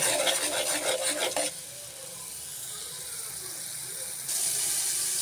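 Chili powder, salt and spices are stir-fried in a pan. A loud burst of rhythmic stirring and scraping over a sizzle opens it, then a softer steady hiss follows, and the frying swells again near the end.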